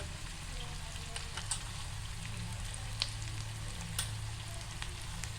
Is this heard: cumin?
yes